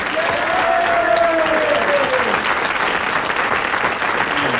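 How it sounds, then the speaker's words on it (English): Studio audience applauding a quiz contestant, a dense, loud and steady wash of clapping that carries on throughout, with a brief voice heard over it. "So, a big round of applause again,"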